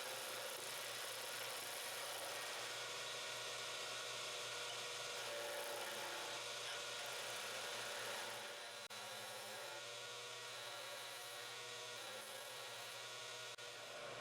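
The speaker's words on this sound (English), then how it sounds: "I am going to rotate at about 1800 RPMs, and I will use a skew chisel to form a cylinder." A wood lathe spins a chestnut oak spindle at about 1800 RPM while a skew chisel cuts it into a cylinder, giving a steady, continuous whirring hiss that shifts slightly in tone partway through.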